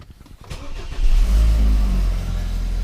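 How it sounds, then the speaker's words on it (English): A BMW F10 528i xDrive engine cranks briefly, then catches and roars up loudly before settling into a steady, close idle hum. "I'm going to go ahead and start the car."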